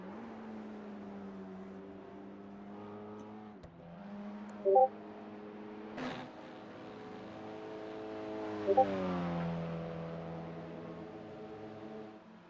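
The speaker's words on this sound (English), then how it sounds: "cars kind of creep up on one another, as we're seeing here on track right now" BMW M2 G87 race cars driving on track at Lime Rock Park, engines droning steadily in the distance and rising in pitch as they pass, with a couple of brief sharper bursts.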